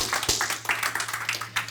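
Scattered hand claps and rubbing in a church service honoring God, a few sharp claps over a steady low hum, close and sparse rather than a full ovation.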